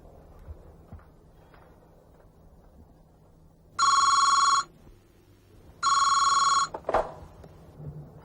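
A telephone bell rings loudly in two separate bursts, each under a second, with a short pause between them, in an otherwise quiet indoor room with faint background noise.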